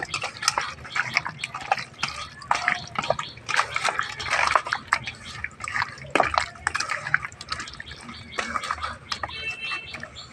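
Chicken pieces mixed by hand with ginger-garlic paste marinade, wet squelching and slapping sounds in a steady, close, irregular rhythm.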